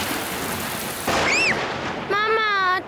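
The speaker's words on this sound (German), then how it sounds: "Mama, der Donner donnert aber laut." Rain hisses steadily through a cartoon thunderstorm with a rumbling burst of thunder, while cartoon character voices chime in over the downpour.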